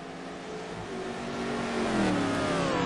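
A DH GP race car engine revs on the Suzuka circuit, its pitch climbing steadily and swelling louder as the car draws nearer, with no voices.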